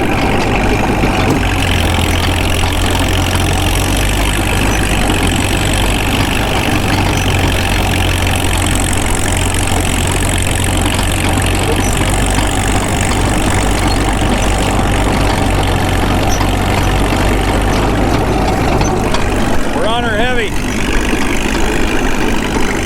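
A Caterpillar D2 crawler tractor engine drones loud and constant at close range while dragging an RD-6 and running hot, a rough steady rumble throughout with a brief voice-like tone near the end.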